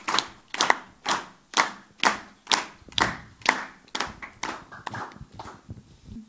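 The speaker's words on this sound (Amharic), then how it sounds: "ጭብጨባ" Rhythmic, evenly spaced claps from an audience at a university award ceremony, about a dozen loud strikes that gradually soften and thin out toward the end, with no talking.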